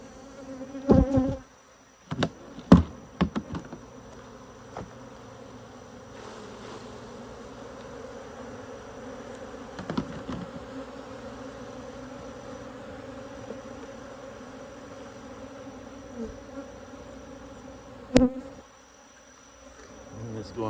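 Honey bees hum steadily while a mini mating nuc is stocked, the close continuous drone broken by several sharp knocks and clatters of frames being handled.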